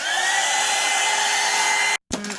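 A hair dryer dries paint on a journal collage: a loud, steady whirring blast held close for about two seconds, then cut off abruptly, followed by a brief rattle.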